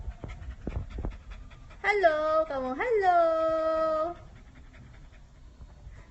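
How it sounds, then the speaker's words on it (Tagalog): A thick-coated dog, freshly groomed at a salon, pants in quick, close breaths while a person speaks softly to it in a high, coaxing voice. "Wala, hinihingal ka."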